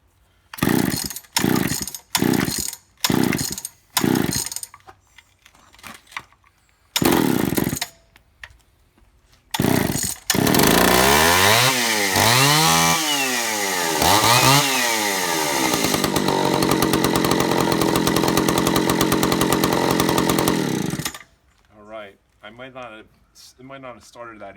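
A 35-year-old chainsaw running on non-ethanol fuel is pull-started with several sharp cord yanks and sputters, then roars to life, revving up and down loudly and idling before shutting off, close by.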